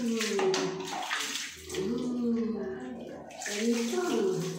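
A cat being bathed with water, with steady splashing and running water throughout while people talk over it.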